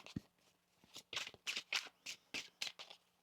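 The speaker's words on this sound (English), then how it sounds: "One more shuffle here." Tarot cards shuffled by hand in a series of about eight crisp riffling bursts, each roughly a third of a second, close and fairly quiet with no talking.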